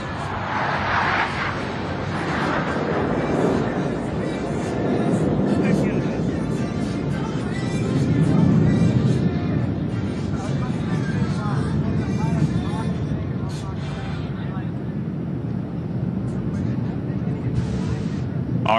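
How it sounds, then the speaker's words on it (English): U.S. Air Force Thunderbirds jets flying in close trail formation over a Washington, DC Independence Day show make a steady, loud jet roar that swells and fades. An announcer speaks over the engine noise. "the Thunderbirds are in the challenging trail formation, with each wingman flying just a few feet from the aircraft in front of them"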